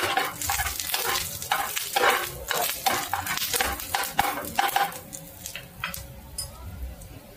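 Garlic lightly roasting in a pan for crispy rice cheese balls, sizzling steadily while a utensil stirs and scrapes against the pan with quick ticking contacts, close and continuous, fading slightly toward the end.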